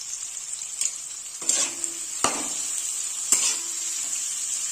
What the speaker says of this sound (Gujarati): ફાસ્ટ ગેસ ઉપર આપણે એને ફ્રાય કરીશું